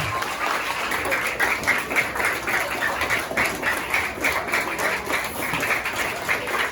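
Children applaud the staff at a school reading day, a dense, sustained round of clapping from a large group, close and lively throughout with no talking.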